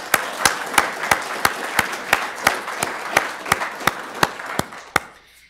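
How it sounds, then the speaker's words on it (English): A crowd applauds at a law school gathering, with a bright wash of clapping and regular sharp claps on top that rise, then taper off at the end. "Give them all a round of applause"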